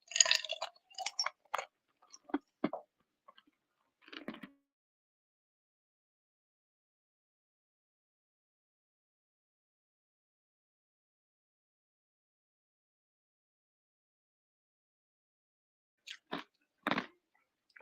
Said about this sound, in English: I was chewing some ice.